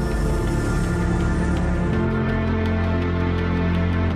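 Menu music from the racing video game Assetto Corsa Competizione plays in a short, dense passage of sustained tones, with a steady rhythmic pulse entering partway through.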